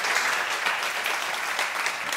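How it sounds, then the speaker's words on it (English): A brief round of audience applause at a book talk, dense and even clapping from a seated crowd, steady throughout and heard alone without voices. "So maybe we'll start with a brief round of applause for Kate."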